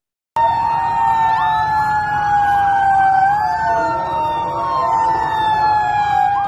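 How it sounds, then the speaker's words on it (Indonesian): A loud Central Jakarta police siren wails continuously nearby while dispersing a crowd, its pitch rising and falling in long sweeps, with faint traffic underneath. "Bunyi sirine polisi dari Polres Jakarta Pusat terus meraung-raung untuk membubarkan kerumunan"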